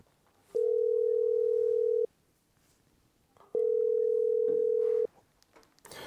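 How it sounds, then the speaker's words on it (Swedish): Two long, steady tones of a telephone ringback while calling someone, each lasting about a second and a half with a quiet gap between, heard alone with faint background noise. "Alltså jag måste ringa Gurra alltså."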